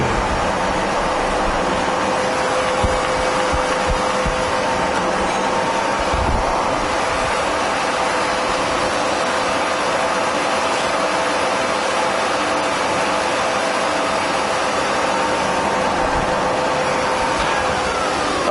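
A Harrison M400 lathe with a 2.2 m bed runs steadily while threading on its lead screw, giving a constant mechanical hum and whine with a faint tonal line, loud and unbroken throughout.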